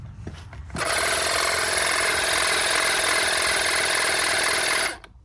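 Rechargeable portable tire inflator pumping, starting abruptly after a few handling knocks and buzzing at a loud steady drone for about four seconds before cutting off.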